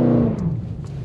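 A Dodge Challenger rated at 720 hp roars through a burnout on a closed road, its engine loud, close and sustained over a deep low rumble for the full second.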